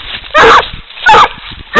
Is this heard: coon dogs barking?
yes